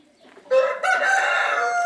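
Hens clucking inside a coop at egg-collecting time, with Brahma hens among the flock; a rooster-like crowing call rises above steady clucks and squawks, close and fairly loud after a quiet start.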